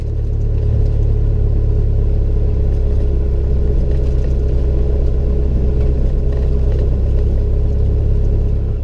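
The engine of small airplane N2055E runs at a steady, loud, droning rumble on the runway before takeoff, with no break or talk.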